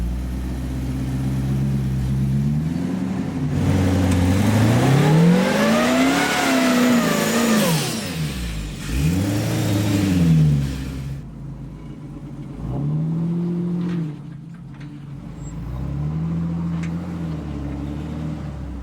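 A rock crawler's engine revving hard while climbing, rising and falling in long strained surges, loud and close, then settling into lower intermittent revs, with no talking.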